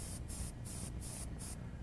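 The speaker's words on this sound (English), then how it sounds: "I go ahead and spray some paint down and I sort of pull it." An airbrush sprays paint onto an animal artwork in short hissing bursts, about four quick passes at a steady rhythm, each a soft airy spray heard close up over a constant low hiss.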